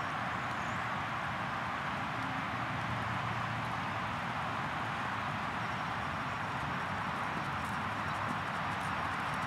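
Horse hooves thud in a steady rhythm at a working lope during a Western dressage test in an arena, a continuous muffled beat under a broad wash of outdoor noise, moderately distant and faint.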